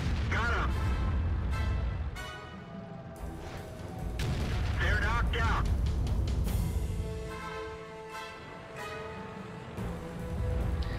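Artillery guns fire in a tank video game, landing heavy booms amid continuous game noise with someone narrating over it throughout.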